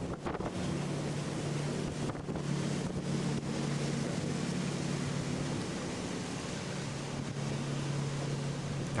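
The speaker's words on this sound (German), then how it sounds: "denn diese Rakete, die fährt bis Kasan" A Raketa hydrofoil passenger boat runs on the Volga river, its engine a steady, loud drone with rushing wind and water noise throughout, no voices heard.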